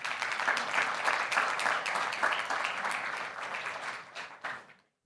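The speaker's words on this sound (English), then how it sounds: "Let's give them a round of applause." A round of applause from the audience at a regional social security programmes forum, dense and sustained for several seconds before quickly fading out.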